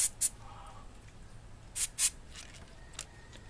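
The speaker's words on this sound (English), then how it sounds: "spray some of the lubricating spray on top of the battery terminals and the screws, as it will help loosen the screws" Lubricating spray hisses onto rusted e-bike battery terminals and screws in short sharp bursts, two near the start and two more a moment later, each close and brief, with quiet gaps between.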